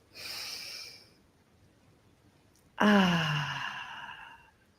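Two deep breaths close to the microphone: a soft airy inhale, a pause, then a louder, heavier sighing exhale that trails off slowly.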